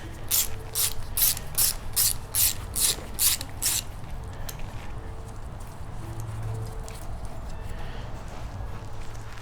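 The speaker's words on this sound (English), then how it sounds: "Pull this bolt off." A ratchet clicks in quick repeated bursts while loosening a bolt on a Kohler EFI small engine during a cylinder head replacement, the sharp pawl ticks close and steady for a few seconds before fading into background noise.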